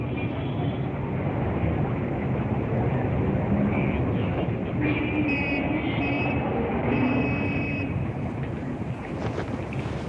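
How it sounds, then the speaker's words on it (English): Rumbling train arriving in Germany in 1936, carrying crowds to the Olympic Games: a steady, loud rolling roar throughout with brief high wheel squeals and whistle-like tones near the middle, no talk over it. "thousands of people arrived by train"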